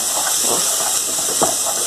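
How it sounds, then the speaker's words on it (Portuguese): Pork fat trimmed from pancetta sizzles in a frying pan with seasoning, a steady, fairly loud hiss with faint crackles and pops throughout. "eu tirei todas as gordurinhas da panceta e coloquei aqui para estar fritando o tempero"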